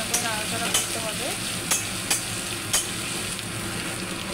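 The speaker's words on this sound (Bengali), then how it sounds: "এর মধ্যে কেটে রাখা টমেটো কুচি দিয়ে একটু ভালো করে নাড়াচাড়া করতে হবে" Chopped tomatoes sizzle steadily as they are stirred and fried in a pan, with a few sharp scrapes and knocks of the spoon against the pan over the continuous frying hiss.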